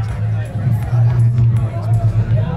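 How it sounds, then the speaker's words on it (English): A crowd gathers outside on the opening night of an exhibition, a dense hubbub of overlapping chatter with a low rumble underneath and nearby voices standing out. "I want to show you the crowd outside"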